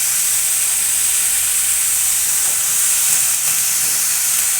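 Washed, chopped Malabar spinach hits a hot pan and sizzles in a steady, bright hiss that holds evenly, close and fairly loud, with no voices.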